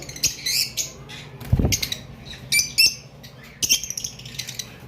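Pet birds on a bird farm give short bursts of high chirps and squawks in irregular clusters, with a low flutter of wingbeats partway through, fairly close with no talking.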